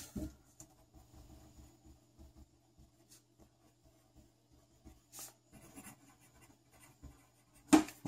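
A pen writing on a check, faint close scratching strokes in short irregular bursts on a quiet background, ending with a louder scrape, with no talking.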